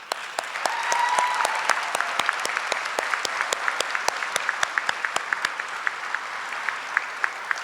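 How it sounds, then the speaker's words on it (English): Applause from family and friends at a university graduate nurses' pinning ceremony: a soft, steady wash of clapping with distinct individual claps cutting through close by, sustained throughout. "I want to give an applause to the family and friends who supported this lovely group of nurses"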